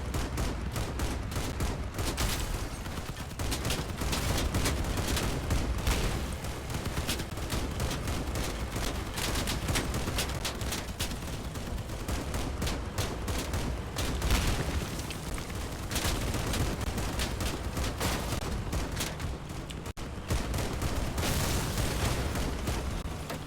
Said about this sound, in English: Try and get shots in.